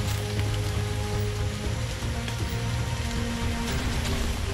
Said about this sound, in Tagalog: malakas na yung ulan mga tol